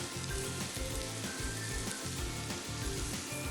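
Chopped celery and garlic sauté in a pan, giving a steady, close, even sizzle that fills the clip without pause or talk.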